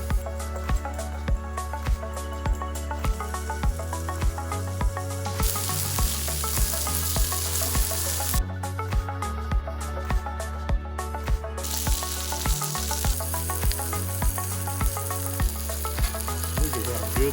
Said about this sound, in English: smash burgers on the 17-inch Blackstone grill